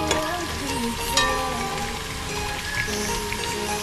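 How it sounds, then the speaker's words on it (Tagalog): Ginger browning in hot oil in a pan for sautéed papaya soup, a steady dense sizzle and crackle with no pauses, loud and close. "Medyo iba-brown lang natin yung ating luya para lumabas yung aroma at saka yung masarap niyang lasa."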